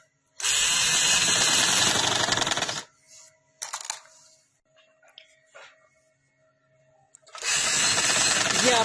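A sewing machine stitches a dress sleeve in two loud, steady whirring runs, one long and one short, separated by quiet fabric handling and a few small clicks.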